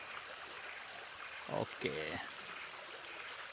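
The Kedang river in forest near Saratok, Sarawak, gives a faint, steady wash of flowing water with a high insect drone above it, while someone speaks briefly in the middle.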